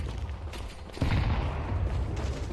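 A flashbang grenade goes off in a shooter video game, a sudden loud burst midway through that sits inside a dense, continuous wash of game gunfire and rumbling explosions.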